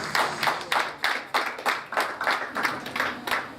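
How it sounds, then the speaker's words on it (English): Steady rhythmic hand clapping at a church service, about three claps a second, sharp and close, continuing throughout with no talking. "Let's clap for Jesus."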